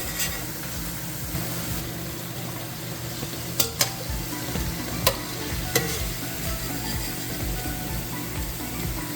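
Dough fritters (pholourie) deep-frying: oil sizzles and crackles steadily throughout, with a few sharp clinks of a utensil against the pan partway through.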